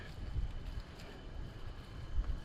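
Wind blows outdoors where it is too gusty for a cooking fire, a low rumbling buffet against the microphone that rises and falls throughout, with no other clear sounds.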